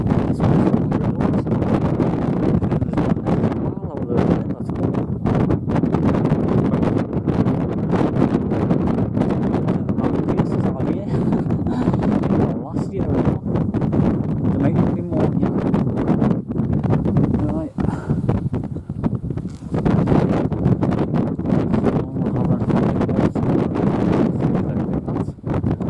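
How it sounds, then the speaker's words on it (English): Strong coastal wind roars and buffets the microphone for the whole stretch at a nesting site of oystercatchers, a loud, steady rumble with gusty crackles and no clear break. "Windy as it up here."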